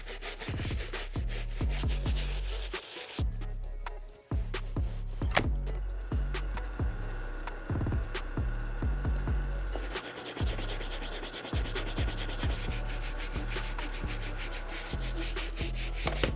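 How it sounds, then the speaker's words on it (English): A brass bristle brush scrubs the midsoles and outsoles of 1985 Air Jordan 1 sneakers with cleaning solution, making close, rhythmic rasping strokes in repeated bursts with a few brief pauses. "I'm gonna be using our 4-ounce bottle of solution and a brass bristle brush"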